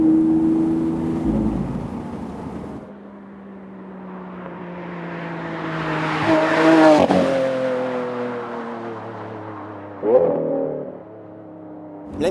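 A Lamborghini Aventador with a 6.5-litre 700-horsepower V12 accelerates through the gears, the engine note climbing loudly and then dropping sharply at each shift, close and alone.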